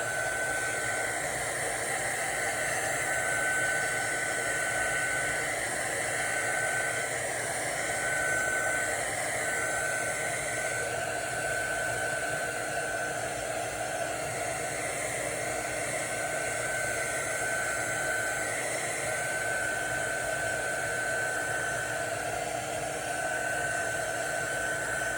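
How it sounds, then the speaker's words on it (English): A small embossing heat gun drying ink on an art journal page blows with a constant steady whir and airy hiss, an even tone held for the whole stretch without pause or talk. "I'm using a little embossing heat gun."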